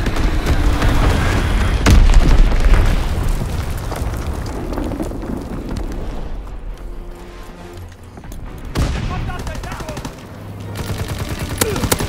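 Bomb explosions and gunfire rumble through a video game battle: heavy booms and crackling bursts of shots come in waves, loud and dense, with brief quieter gaps and some voices mixed in.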